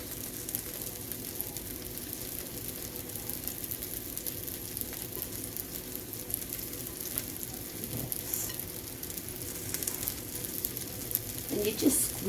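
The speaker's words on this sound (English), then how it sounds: "And you just squeeze it together as you're turning it to make sure you've got it mixed well." Homemade meatloaf mixture being squeezed and turned by hand in a bowl, producing a continuous wet squishing and squelching close up, with occasional soft thuds.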